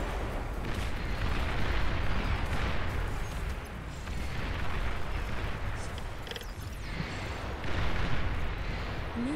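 Dense barrage of rocket fire in the real-time strategy game Beyond All Reason, a continuous loud wash of launches and blasts rolling on without pause, with no talk over it.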